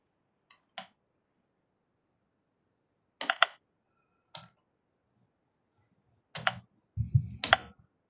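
Computer mouse clicks while a file is uploaded and an assignment submitted online: a handful of sharp, close clicks, singly and in quick pairs, separated by silence, with some handling noise near the end.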